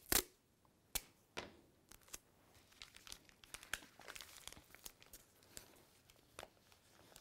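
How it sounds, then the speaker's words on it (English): Masking tape is peeled off a roll in a quiet indoor space while wild game is wrapped in butcher paper, giving faint crinkling, tearing rips and scattered small clicks. "Peel off a little strip of masking tape."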